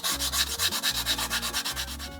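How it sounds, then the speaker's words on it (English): Hand sanding with a sanding stick on a cheap-material Fortnite tactical SMG prop, a close rhythmic rasping rub in quick even back-and-forth strokes, with no voices. "I can take my sanding stick and sand them down until they're nice and smooth"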